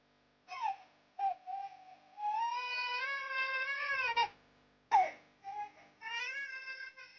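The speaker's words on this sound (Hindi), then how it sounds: "बच्चे के रोने की आवाज ये कहां से आ रही है?" An infant cries in repeated loud, close wailing bursts with rising and falling pitch, separated by short pauses, heard alone without talk.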